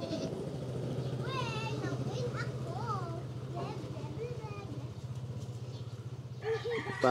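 Goats bleat repeatedly while being herded outdoors, wavering cries rising over a steady low engine-like hum and background voices, with children's speech nearby.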